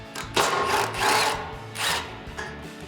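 A ratchet or socket wrench backs out 12mm skid plate bolts on a Tacoma, giving three or four short bursts of clicking and grinding up close, with no talk.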